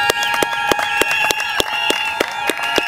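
Applause greets a guest standing up at a wedding ceremony, heard as a run of sharp, evenly spaced claps under a sustained tonal music-like background, loud and close.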